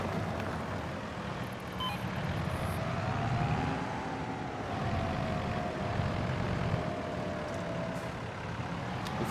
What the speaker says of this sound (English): I'm having to use the drone a lot because this map is a little bit tight